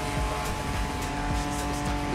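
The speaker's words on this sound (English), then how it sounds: "Is that Ford Bronco made in Oahu? Ah, perfect. This is the exact car we need today." A Ford Bronco engine drones steadily with tire noise as it drives in the racing game The Crew Motorfest, loud and continuous with no talk.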